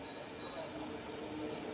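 MEMU train running on the Karimnagar to Sripur town line near Ravindra Khani, a steady faint rumble of the moving carriage from onboard, with a brief high squeal early on.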